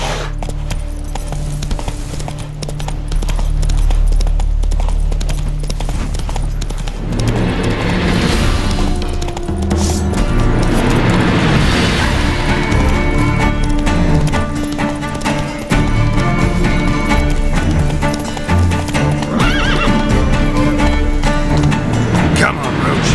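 Roach the horse gallops in The Witcher 3 video game, a steady run of hoofbeats half buried under loud music and voices across the whole stretch.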